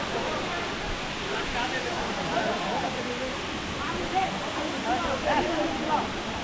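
Eratti Falls waterfall, a steady broadband rush of falling water close by, continuous and even throughout with faint voices underneath.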